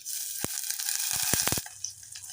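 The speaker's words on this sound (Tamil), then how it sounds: "இப்போ நம்ம இதில் வெட்டி வச்சுருக்கிற ஒரு மீடியம் சைஸ் வெங்காயத்தை நான் சேர்த்துக்கிறேன்" A medium-sized chopped onion hits hot oil with cumin, throwing off close, crackling sizzle and a cluster of sharp pops that ease toward a quieter fry.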